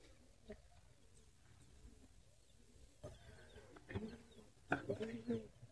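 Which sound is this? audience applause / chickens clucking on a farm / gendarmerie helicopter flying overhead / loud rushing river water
chickens clucking on a farm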